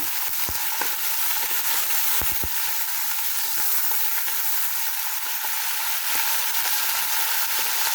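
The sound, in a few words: chicken liver sautéing in a pan for pancit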